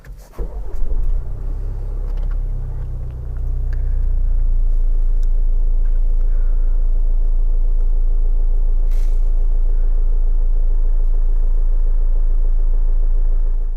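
A 2016 Land Rover Discovery Sport TD4 150 diesel cranks briefly and fires up, then settles into a steady, loud, low rumbling idle that continues unchanged, with no voices.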